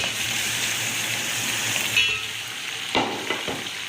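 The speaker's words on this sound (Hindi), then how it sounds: "इसको भूनेंगे तेज़ आंच पर तकरीबन 5 से 7 मिनट" Marinated mutton sears in a pan over a high flame: a loud, continuous sizzle, broken near the end by a few brief knocks and scrapes of stirring.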